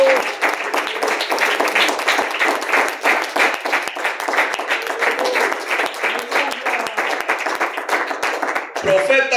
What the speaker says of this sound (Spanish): Si es para el Señor, déselo más fuerte conmigo.